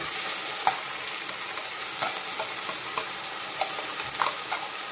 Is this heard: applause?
no